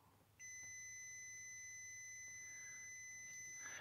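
A WinAPEX touch-sensing multimeter's continuity beeper, tested across roughly one ohm of resistance, sounds a steady, unbroken high-pitched electronic tone that holds for several seconds over faint background hiss.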